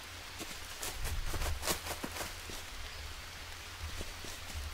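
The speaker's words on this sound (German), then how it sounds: "Mach doch einfach den Mund auf, es regnet doch." Rain falls steadily in the jungle survival game Green Hell, a soft even hiss with scattered louder drops and patters, fairly close and moderately quiet, with no talk over it.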